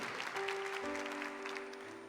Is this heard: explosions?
no